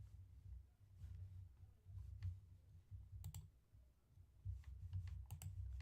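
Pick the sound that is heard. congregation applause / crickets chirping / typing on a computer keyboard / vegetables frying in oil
typing on a computer keyboard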